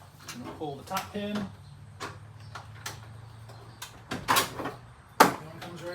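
A hinge pin is pulled from the door of a Ranger utility vehicle being converted to removable doors, giving a few short metallic clicks and taps amid quiet handling noises, with a person talking over part of it.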